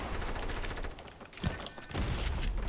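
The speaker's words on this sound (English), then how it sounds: "We're getting shot from north too." Rapid gunfire in a Fortnite Battle Royale match, bursts of shots cracking at close to mid range with a couple of sharper louder reports, continuous and dense throughout.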